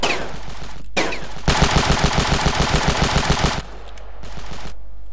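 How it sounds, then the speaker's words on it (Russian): A loud, sustained machine-gun burst with evenly spaced rapid shots rattles for about two seconds in the game Ravenfield, framed by shorter bursts of gunfire before it and quieter game noise after it. "Кто стреляет в меня?"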